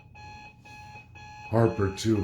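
Alarm clock alarm going off in repeated beeping bursts, clear and close, with someone talking loudly over the last part.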